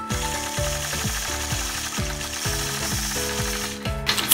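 Sewing machine stitching a quilt block: a loud, steady mechanical chugging with regular repeating pulses about twice a second, running continuously and stopping near the end.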